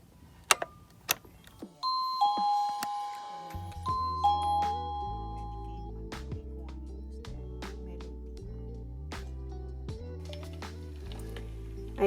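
A Yissvic doorbell camera chime rings: a couple of sharp clicks, then bright two-tone ding-dong notes followed by a longer electronic melody that plays on alone, close and clear.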